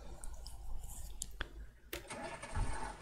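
KhTZ T-150K tractor engine starting in a video game mod: scattered clicks, then the engine catches and rises into a rumbling idle with a low surge near the end.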